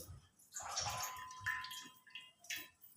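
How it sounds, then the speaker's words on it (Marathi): Whey drains out as homemade curd is squeezed in a cloth for shrikhand, making a faint trickle and scattered drips, with quiet, irregular splashes. "असं असं दाबून आपण हे पाणी थोडंसं काढायचं आणि हे बघा असं खाली पाणी निघतं"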